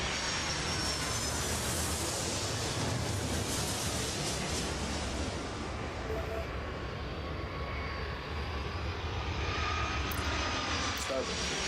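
Airplane engines roar in the Airport Madness World Edition airport game, a dense, continuous jet drone lasting the whole stretch with no letup.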